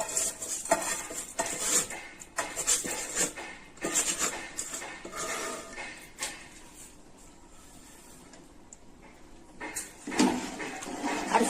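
A metal spoon scrapes and clinks against a pot of rice for chicken biryani in irregular bursts, close and moderately loud, with quieter stretches between the stirring strokes.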